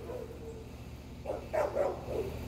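A dog gives a few short, moderately faint barks in quick succession over a low steady background hum, with no talk.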